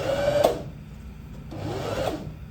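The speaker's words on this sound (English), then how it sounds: "place your bobbin on the bobbin winder, push the bobbin to the side, hold the thread gently and press the paddle" A sewing machine winds a bobbin on its bobbin winder, giving a close, steady mechanical whir in two short bursts with a brief drop in between.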